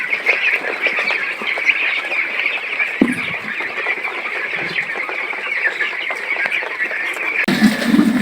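Flock of about 400 chickens on a village farm just after feeding, a dense continuous chorus of clucking and squawking close by, with a few knocks and rustles.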